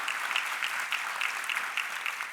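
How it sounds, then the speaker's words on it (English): Audience at a conference session breaking into a steady round of applause, many hands clapping evenly and fairly close throughout with no talk over it. "A round of applause."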